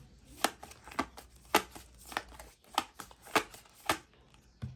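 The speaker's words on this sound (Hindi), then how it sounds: "मैंने कर ली है सफलिंग। निकालते हैं कुछ कार्ड्स यहाँ से।" Tarot cards are shuffled and drawn, giving a series of soft, crisp riffling snaps at an uneven rhythm, close and quiet, with no talk.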